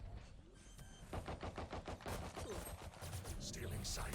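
Rapid bursts of gunfire from the video game Valorant during a pistol round, quick repeated cracks in clusters, fairly faint and mixed with game sounds and a voice talking.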